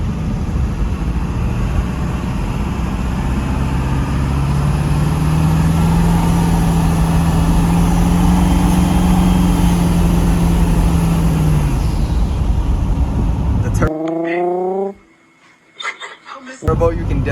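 A Ford 7.3 Power Stroke diesel with a newly fitted Sinister Diesel intake runs steadily and loudly nearby, a low rumble with a rising turbo whine, before the recording cuts to a brief quieter section with a voice.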